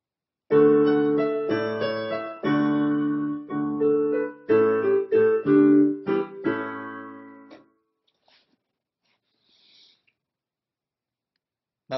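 A short passage of a minuet on piano plays in a lilting, dance-like rhythm, then stops and leaves near silence for several seconds.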